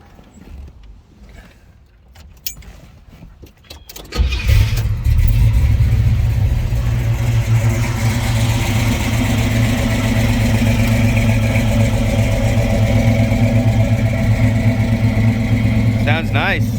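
A 1969 Chevrolet El Camino with a 396 L78 V8, solid lifters and TH400 transmission cranks briefly, then roars to life with a loud catch and settles into a strong, lumpy, steady idle at close range, with faint creaks and clicks around it.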